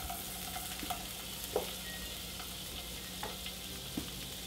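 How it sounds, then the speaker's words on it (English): Shallots cooking in a pat of butter in a frying pan: a soft, steady sizzle, fairly faint, with a few light stirring clicks. "go back into that pan with a nice pat of butter and your shallots"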